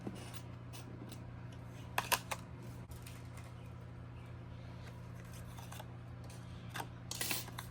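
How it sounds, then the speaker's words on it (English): A Halloween card piece is fed through a die-cutting machine: a steady low mechanical hum runs throughout, with scattered light clicks and rustling paper sounds, including a few sharper taps near the middle and end. "let's go ahead and die cut this out."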